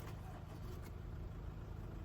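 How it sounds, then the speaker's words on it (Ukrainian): A Honda CR-V with a manual gearbox starts up and runs, giving a steady low engine rumble that holds close and even throughout with no talking. "Слухайте, робимо запуск цього двигуна."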